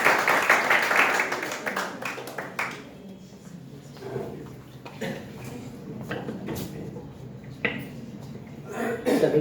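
An audience at a B.Ed. department seminar claps to welcome a guest speaker, with a dense burst of applause in the opening seconds that thins to scattered claps, coughs and room shuffling.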